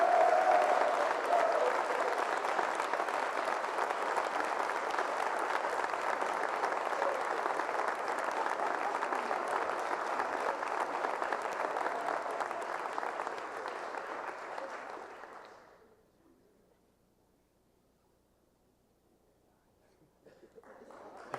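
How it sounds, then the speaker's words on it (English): A college convocation crowd applauds a student arriving, sustained loud clapping for about fifteen seconds that tapers into near silence before a faint sound returns at the end. "Give him another round of applause as he comes in the door."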